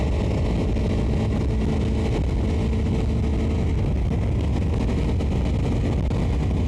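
A motorcycle engine accelerates on a road, a loud, steady roar blended with heavy wind rush that holds throughout.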